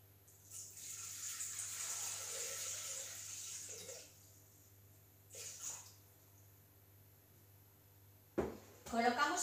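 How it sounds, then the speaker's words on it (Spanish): Water is poured into a Thermomix bowl in a kitchen, a steady splashing stream for about four seconds followed by a short second pour, fairly close, then clattering handling noises at the end. "vamos a echar el agua"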